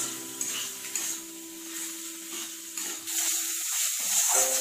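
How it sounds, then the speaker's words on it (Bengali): Chicken mince is stir-fried with spices and onions in a pan, giving a soft, steady sizzle with occasional scraping stirs from a spatula, heard up close and fairly quiet. "চিকেন কিমাটাকে মশলার সাথে ভালো করে কষিয়ে নেব।"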